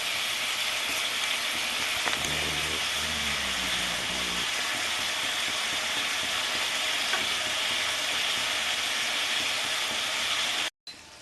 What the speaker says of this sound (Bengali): আমার ঝোলটা ফুটে উঠেছে এবার আমি পটলগুলো এতে বসিয়ে দেবো আস্তে করে